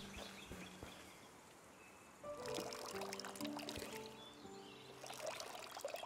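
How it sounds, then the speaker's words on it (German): Water pouring and trickling as a watering can is filled in the farming game Hokko Life, a steady splashing stream that swells after a quiet start, with soft bird chirps and game tones behind it. "So, erstmal voll machen."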